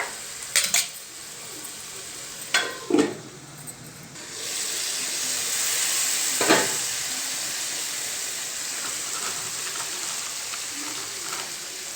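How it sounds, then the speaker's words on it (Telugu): Tomato and fenugreek leaf dal with toor lentils cooks in a pan, with a continuous sizzle and bubbling and a few sharp clinks of a utensil against the pan near the start. "ఉడుకుతుంది కదండి కొద్దిసేపు మనం క్యాప్ పెడదాము టమాటో కొంచెం ఉడికాక"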